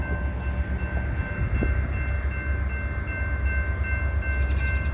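A CSX freight train rumbles steadily and low nearby as it slows to a stop, a continuous heavy drone with faint metallic squeals and no voices.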